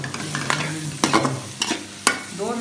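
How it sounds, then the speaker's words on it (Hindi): Carrots and other vegetables frying on high flame for chicken fried rice, with sharp spatula scrapes and stirs against the pan at irregular intervals over a steady close sizzle, with faint music underneath. "दो मिनट ऐसे फ्राई करेंगे"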